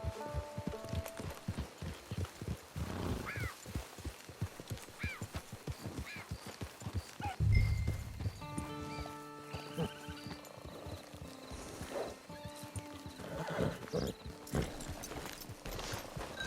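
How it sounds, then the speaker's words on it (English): Horse trotting in the Red Dead Redemption 2 video game, rhythmic hoof clip-clops moving steadily with a snort, game ambience and occasional animal calls and tones layered around it. "Get your horse."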